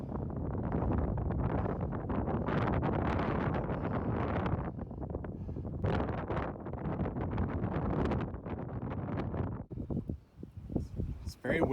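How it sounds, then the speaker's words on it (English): Strong wind buffets the microphone on a Hawaiian hiking trail in Moanalua Valley, a loud continuous rumbling roar with gusty surges, while a person talks through it before the gusts briefly drop away near the end. "It's very windy, which feels great for me."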